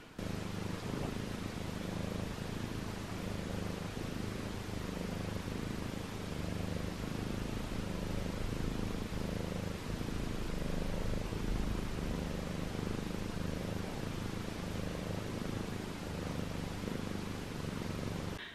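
Cat purring steadily and continuously up close, a low rumbling drone that holds at an even level throughout.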